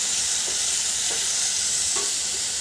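Spice mixture of coriander powder and red chili powder being stirred in a hot pan, a dense continuous sizzle with a few soft scraping strokes, close and fairly loud.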